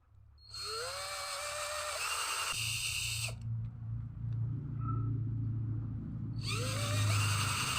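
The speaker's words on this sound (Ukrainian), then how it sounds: "Беремо сверло приблизного діаметру та висверлюємо." A power drill with a bit bores out a part of a car jack, whining up to speed, grinding steadily under load, dropping off, then starting again, loud and close with a low rumble beneath.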